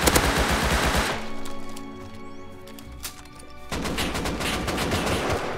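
Rapid automatic gunfire in the Rust survival game rattles loudly in dense bursts, pauses for a couple of seconds while quieter game sounds continue, then resumes with another sustained volley.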